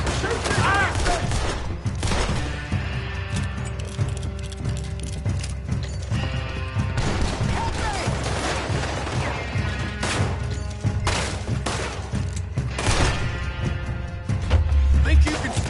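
Gunfire in a Western shootout in the video game Red Dead Redemption 2, loud shots crackling over horse hooves, crashes and shouting voices throughout.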